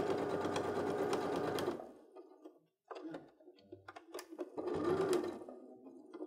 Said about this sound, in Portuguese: Aqui eu pespontei em toda a volta, como eu fiz com a primeira.